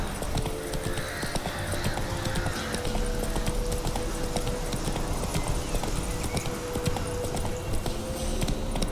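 Roach the horse gallops hard in The Witcher 3: Wild Hunt, with fast, rhythmic hoofbeats pounding steadily and close throughout, joined by game music and ambient sound.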